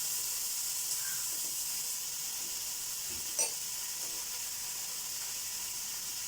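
Onions and shallots fry in a pan with salt for a chicken curry, giving a steady, even sizzling hiss throughout, broken once near the middle by a single brief clink.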